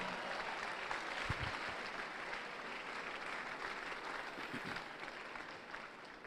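Newly admitted students at a university orientation programme clap for their Vice-Chancellor, a broad, steady wave of applause from a large indoor crowd that holds evenly throughout with a couple of louder bumps.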